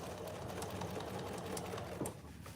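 Sewing machine humming steadily while stitching oven mitts, a close continuous motor drone with faint needle ticks and a small knock near the end, no talking.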